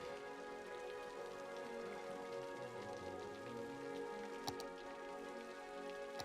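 Rain in the Cities Skylines city-building game falls in a steady, even patter with a couple of slightly sharper drops, and no talk over it.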